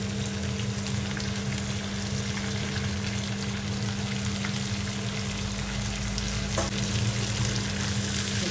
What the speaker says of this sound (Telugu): కలుపుకోవాలి కిందికి పైకి మంచిగా కలుపుకోవాలి ఆయిల్ అంతా ముక్కలకు పట్టేట్టుగా